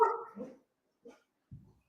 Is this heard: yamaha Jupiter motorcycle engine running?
no